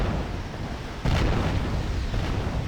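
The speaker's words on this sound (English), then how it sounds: "And the large cluster artillery is firing." Cluster artillery fires in the Wargame Red Dragon video game, a dull, rumbling boom swelling out of a dense wash of battle noise, with no voices.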